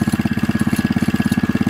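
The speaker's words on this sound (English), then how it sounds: "There's a little bit of a jingling noise you can hear, and that's the recoil." Running Kohler K91 engine on a Wheel Horse RJ58 garden tractor idles with a fast, even chugging pulse close up, a faint metallic jingle from the loose recoil starter riding over it, no voices.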